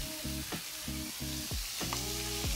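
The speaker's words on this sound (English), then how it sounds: "So while the pork is browning," Pork pieces browning in a hot pan give off a soft, steady sizzle with occasional stirring sounds, fairly quiet throughout.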